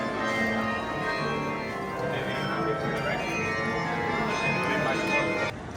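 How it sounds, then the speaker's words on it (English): Church bells peal continuously in a European city square, St. John Square, a dense overlapping ring of tones against ambient crowd noise before cutting off near the end. "those bells are still going"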